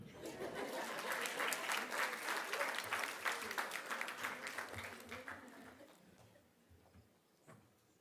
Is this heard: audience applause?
yes